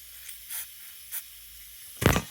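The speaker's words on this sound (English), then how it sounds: "I normally spray it in these little jets here." Starting fluid is sprayed into the small jets of a part being cleaned. Three short hisses are followed by a louder, longer burst near the end, set against a quiet background.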